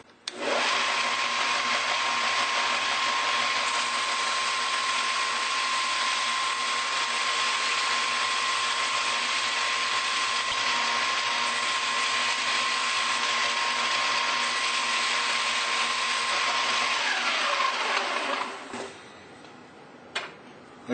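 A bone banjo nut being rough shaped on a steady, high-pitched powered sander or grinder that whirs continuously for about eighteen seconds at close range, then spins down and stops.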